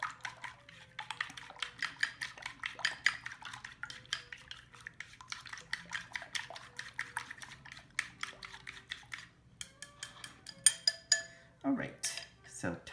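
Egg and sugar whisked in a bowl for Japanese tamagoyaki, a steady run of quick light clinks and scrapes with a soft hum behind, close and fairly quiet.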